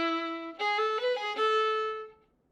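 A solo violin plays one measure of Wohlfahrt etude 44: a held opening note, then a quick run of short bowed notes and a longer final tone that fades out, close and clear with no voices.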